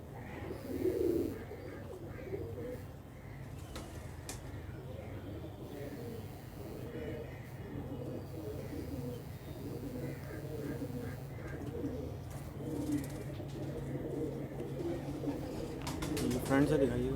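Pure Ababil high-flyer pigeons coo steadily at a Karachi loft, a continuous chorus of soft throaty rolls close to the microphone, with occasional voices talking in the background.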